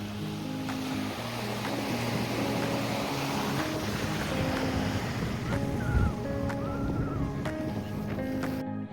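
Sea waves wash steadily onto Nivati beach, with a constant roar of surf and wind buffeting the microphone, joined by the droning hum of a boat motor nearby.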